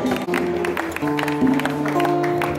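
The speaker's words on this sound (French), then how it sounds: "Nous applaudissons encore une fois très fort" An audience applauds loudly at a provincial assembly gathering, with sustained clapping spread across a room alongside music-like tones running underneath.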